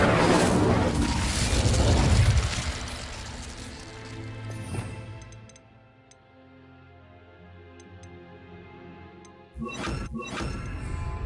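The Incendio fire spell in Hogwarts Legacy bursts out in a loud, crackling whoosh at the start, then fades into a quiet tail with faint ticks before a fresh rush of noise near the end.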